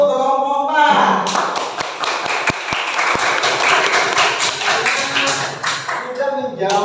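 Classroom applause for a student group: a burst of clapping and taps from many hands, steady and dense for several seconds at moderate loudness, with children's voices mixed in.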